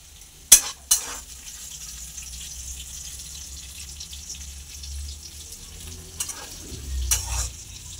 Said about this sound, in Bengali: এই সাইডে আমাদের এখনও উচ্ছে ভাজা চলছে